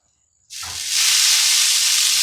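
Teriyaki orange spatchcock chicken bursts into loud sizzling as it is flipped on a smoker, a sudden hiss that jumps in after a quiet moment and holds steady and close.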